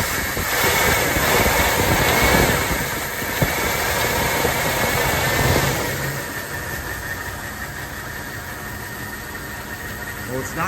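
A 1979 Lincoln Continental Mark V V8 engine revs up briefly and loud, then settles back to a rough idle with a faint belt squeal and a voice murmuring nearby.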